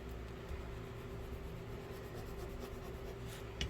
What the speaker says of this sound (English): I'm just burnishing down this really good on the, especially on the top there where those magnets are